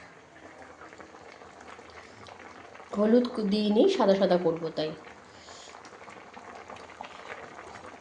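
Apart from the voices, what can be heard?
vegetables boiling in a pot for shukto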